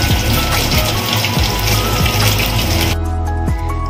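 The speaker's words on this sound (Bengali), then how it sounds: "এটা লো ফ্লেমেই ভাজতে হবে" Lemon chicken pakora frying in oil over a low flame, a steady dense sizzle and crackle with occasional pops, fairly loud and close, no voices.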